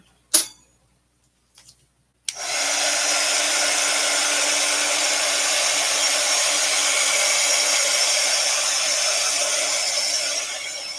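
A hair dryer blows steadily on distress ink dabbed onto a card for Halloween card-making backgrounds, starting after a couple of faint taps and then running continuously and fairly loud to the end.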